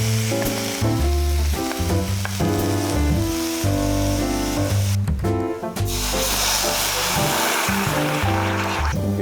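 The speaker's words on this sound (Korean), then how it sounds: "가볍게 살짝 볶아서 마늘 향을 내주시다가 해물을 넣고 볶아주시면 됩니다" Squid, shrimp and clams stir-frying with garlic in a pan for paella, a loud steady sizzle with scraping stirring strokes throughout and no voices.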